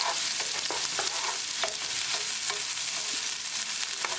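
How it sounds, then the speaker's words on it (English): Onion frying in hot oil with cumin seeds, stirred steadily, giving a continuous close sizzle with repeated scraping and clinking strokes throughout, no voices. "As the oil start to heat up, add cumin seed, jeera. Give like 10 seconds. This is good enough. Add onion."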